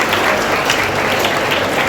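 A crowd at a college Kamarajar birthday celebration applauds loudly, a thick, continuous patter of many hands close by and sustained throughout.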